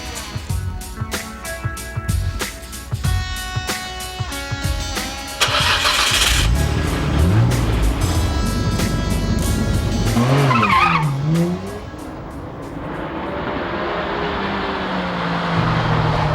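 Nissan Skyline GT-R R34 from 1999 lapping a race circuit, its engine revving loud and close with gear changes and tire squeal, and a backing music track running through the whole run.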